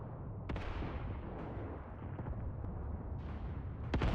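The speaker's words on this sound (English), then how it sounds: "you can see some sporadic explosions here by the mortar" Sporadic mortar explosions in the WWII game Mius Front, distant dull booms and crumps rolling under a constant low battlefield rumble, with a couple of sharper bursts near the end.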